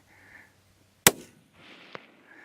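A single sharp rifle shot cracks out during a Wyoming mule deer hunt, a loud sudden report with a brief decaying tail, set between faint low murmurs and a second smaller click.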